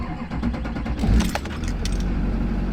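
A diesel truck engine cranks and catches about a second in with a loud rumbling burst, then settles into a steady close idle with faint jingling over it.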